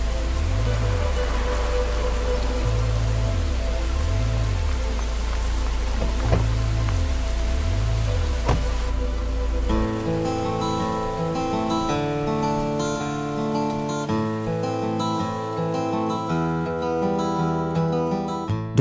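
Rain falls over a city at night as an even, steady hiss. Music swells in partway through and carries on over the rain.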